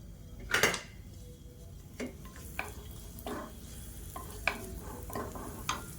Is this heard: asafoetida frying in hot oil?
yes